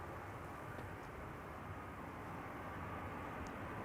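A British Airways Airbus A320 arriving from London Heathrow at Amsterdam Schiphol gives a steady, broad jet roar that fills the whole stretch, loud and constant with no break.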